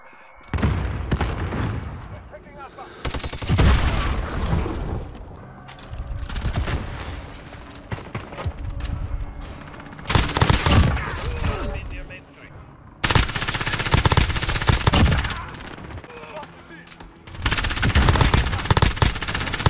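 Rapid automatic gunfire and explosions in the video game Call of Duty Warzone, loud dense bursts with brief pauses between volleys, with a player talking over the action.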